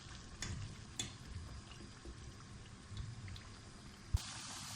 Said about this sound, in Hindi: और इनको भी डीप फ्राई कर लेना है।